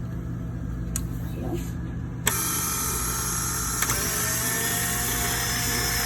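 An electric stand mixer switches on at low speed to blend butter and a couple of handfuls of flour for bread dough, settling into a steady whirring motor hum that runs on evenly after a click.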